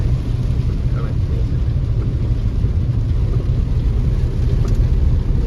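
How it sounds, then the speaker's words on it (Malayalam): Heavy rain pours down steadily by a roadside church, a dense, constant hiss and low roar filling the whole stretch without a break. "നല്ല മഴയല്ലേ."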